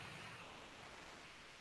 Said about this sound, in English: The sound like this is the sound of a fan or an air conditioning that is on right now.